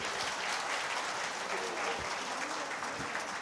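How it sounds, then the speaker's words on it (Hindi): Loud, dense applause from a large crowd at a public event for girls' education, steady clapping that fills the whole few seconds without a break. "एक बार जोरदार तालियां मामा जी के लिए"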